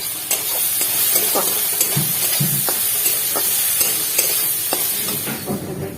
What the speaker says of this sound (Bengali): মশলা ভালো করে কষিয়ে নেবো আদা আদা দিয়ে দিচ্ছি